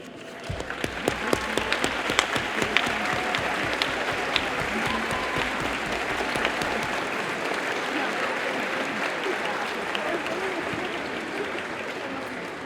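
Audience applause at a middle school regional choir concert as parents of choir members stand to be honored, a dense, steady wash of many hands clapping that carries on evenly, with scattered sharper claps early and a voice briefly over it.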